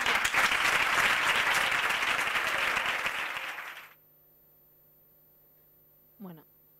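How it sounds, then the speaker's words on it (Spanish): Audience applause at a Spanish cultural conference on Romani history, a dense roomful of clapping that holds steady for about three seconds, then thins and fades out, followed by near silence. "un fuerte aplauso para todas las madres de todas las niñas"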